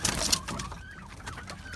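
Hens clucking and murmuring at close range, several birds overlapping in short, irregular calls with a busy farmyard hum underneath.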